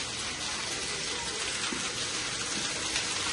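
Water being drawn runs in a steady, hissing gush, close and fairly loud, unbroken for the full few seconds with no voices.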